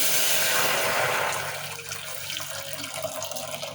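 Boiling water poured from a kettle into a pot on the stove, a loud gushing rush that tapers off halfway into quieter splashing and bubbling.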